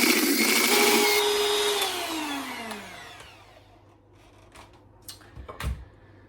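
An electric hand mixer whirs loudly while creaming butter in a home kitchen, then winds down with a falling whine, followed by a few knocks and clatters.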